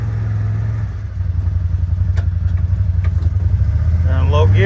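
A CFMOTO ZForce 950 UTV (2023 Gen 2, fitted with a clutch kit) makes a low-range pull: a loud, steady low engine drone that swells and climbs in pitch toward the end, with faint muffled voices.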